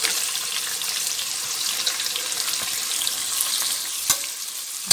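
Sliced onions dropped into hot oil with cashews for Karaikudi dum biryani, a loud, dense, continuous sizzle close up, with a few scraping stirs and clinks of a utensil.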